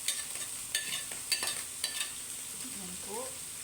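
Carrots go into a sizzling pan for macaroni with cheese and are stirred, with faint frying hiss under a few soft utensil scrapes and clinks, followed by a brief quiet voice near the end.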